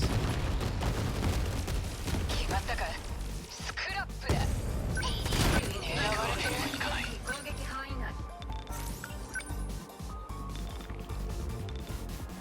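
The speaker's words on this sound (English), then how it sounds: "Fire the missiles." Missile barrage fired in the video game 13 Sentinels, a dense burst of rapid launches and blasts layered over game music, loud and continuous with a player's voice talking over it.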